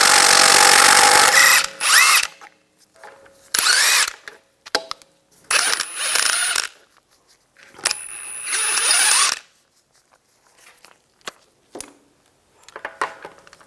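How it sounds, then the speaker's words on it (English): An impact power tool with a 19mm socket spins lug nuts off a 2014-2022 Jeep Cherokee rear wheel, loud whirring bursts of one to two seconds repeating with brief pauses, close by and without talk. "We're going to remove the wheel, use a 19mm socket, take the lug nuts off."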